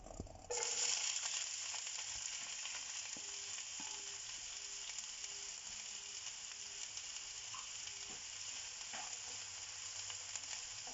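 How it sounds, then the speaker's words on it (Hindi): Chopped onions hit hot oil in a pan for a ridge gourd masala fry, setting off a bright, steady hissing sizzle that holds evenly, with a couple of faint stir taps. "ऑयल गर्म होने के बाद हम इसमें ऐड करेंगे चॉप्ड ऑनियंस"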